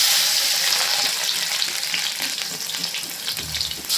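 Garlic sizzles and fries in hot oil in a pan for a traditional wild-vegetable dish, a loud close crackle with the sound of stirring and no talk.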